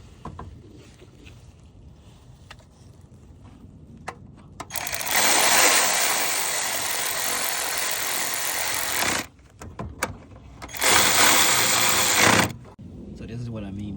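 Power tool whirring in two long, loud sustained bursts, the second shorter, while bolts are tightened on the cooling fan of a 2013 Hyundai Elantra during repair work with the intake removed; quieter shop noise fills the gaps.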